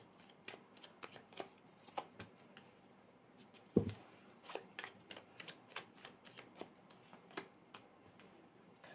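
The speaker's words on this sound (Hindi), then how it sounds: "अभी मैं कार्ड्स निकाल लूँ फिर मैं आपको एक्सप्लेन करती हूँ" Tarot cards drawn from a deck and handled in quick succession, producing soft papery flicks, snaps and shuffling rustles in an irregular rhythm, close and quiet, with one sharper tap midway and no talking.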